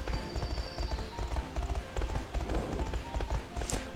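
Rapid rhythmic hoofbeats of a galloping horse in the video game Grand Galop drum steadily throughout, with a soft game-like ambience behind them.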